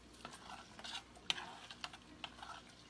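A spoon stirs elderberry syrup in a pot, with soft scraping sweeps and a few sharp clinks of metal against the pan over a quiet simmer.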